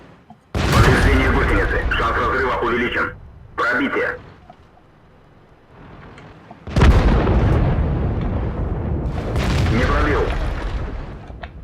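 Tank cannon fire in World of Tanks: two loud, sharp booming shots with long rumbling decay, the first near the start and the second midway, alongside other battle noise and brief bursts of sound.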